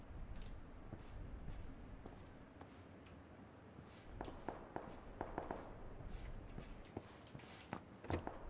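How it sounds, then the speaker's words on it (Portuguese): Scattered sharp gunshot cracks in PUBG Battlegrounds, some single and some in short bursts, heard at moderate distance over steady ambient game noise with footsteps. "O volume do tiro desse lado tá aumentando."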